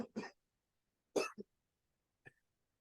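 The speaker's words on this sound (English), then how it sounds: "Just a cough." Three separate coughs with pauses between them: two fuller coughs close together, then a short, faint one at the end.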